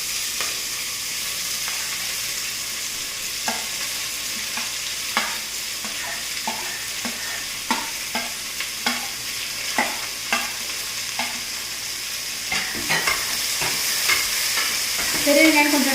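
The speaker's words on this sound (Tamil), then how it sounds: "நம்ம அரிஞ்சு வச்சிருக்கிற பெரிய வெங்காயத்தை உள்ளே போட்டு வதக்கிடலாம்." Chopped large onions sauté in hot oil with curry leaves and green chillies for a Tamil chicken curry, a steady sizzle punctuated by regular spatula scrapes and taps against the pan.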